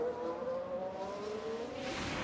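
Race car engine with engine issues in the video game F1 Manager 24, a steady droning whine at moderate level, heard alone with no talking.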